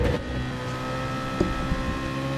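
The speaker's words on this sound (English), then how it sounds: "Revs rising." BMW GT race car engines revving at the start of a sim racing game race at Barcelona, a loud steady droning engine roar with layered harmonic whine throughout.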